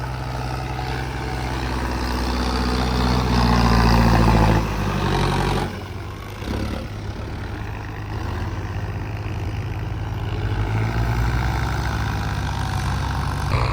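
A Mahindra Arjun Novo 605 DI tractor works in a farm field, its loud diesel engine droning steadily with a deep low rumble that swells slightly as it approaches.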